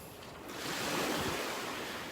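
Surf at a beach in North Naples, Florida, a wave swelling into a broad, steady wash that stays loud with some wind rumble on the microphone and no voices.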